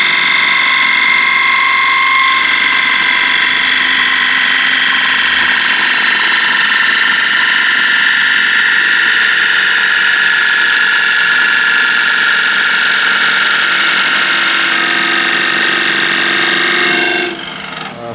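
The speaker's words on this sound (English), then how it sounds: "I still need to cut it with the spindle gouge to get the best possible surface on the inside here" A spindle gouge cutting the inside of an ash wood cross-grain box on a lathe, a loud continuous whining, scraping hum with steady tonal ringing that cuts off at the end.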